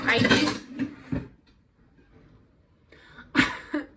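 A bowl taken out while kitchen things are moved around, a few clattering knocks of dishes and utensils in short bursts separated by near silence, close by.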